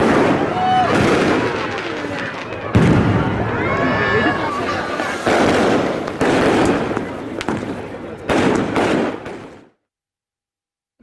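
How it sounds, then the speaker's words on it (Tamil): A fireworks display over the Pondicherry beach road for French National Day, repeated loud bursts and crackles among a noisy crowd, with people talking throughout before it cuts to silence. "புதுச்சேரி கடற்கரை சாலையில் நேற்றிரவு கண்கவர் வான வேடிக்கை நடைபெற்றது"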